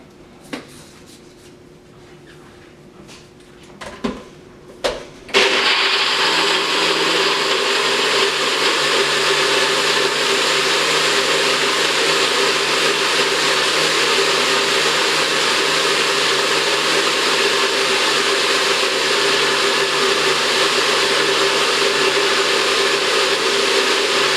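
A kitchen blender whirs frozen fruit into a breakfast shake, starting after a few clatters as the lid and blade go on, then roaring loud and steady without pause.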